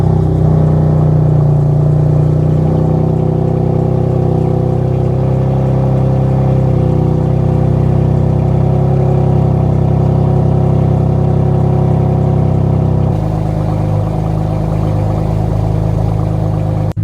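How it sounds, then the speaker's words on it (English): A BMW F82 M4's S55 engine on its stock exhaust idles with a loud, steady low drone after startup, then drops to a quieter, lower hum near the end. "last startup of the stock exhaust."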